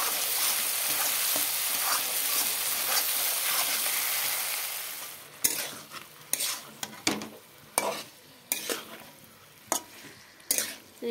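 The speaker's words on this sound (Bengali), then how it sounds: "আর একটু কষিয়ে নেব। মশলাগুলো ভালো করে কষালে টেস্টটা দুর্দান্ত হয়।" Spices being sautéed in oil in a pan: a steady close sizzle fills the first half, then the frying drops back as a spoon scrapes and stirs in sharp, irregular strokes against the pan.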